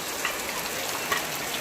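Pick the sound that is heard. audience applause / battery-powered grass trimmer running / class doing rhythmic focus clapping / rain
rain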